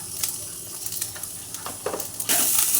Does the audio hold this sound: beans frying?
yes